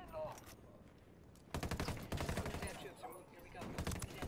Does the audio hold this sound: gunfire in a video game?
yes